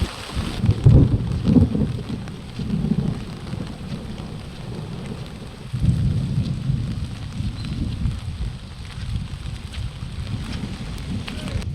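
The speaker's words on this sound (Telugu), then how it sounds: "వారం రోజులుగా జిల్లాను అకాల వర్షం వెంటాడుతోంది" Unseasonal rain and thunderstorm with hail in rural Telangana, a steady wash of rainfall with deep rumbling swells of thunder rising and fading near the start and again midway, continuous and moderately loud.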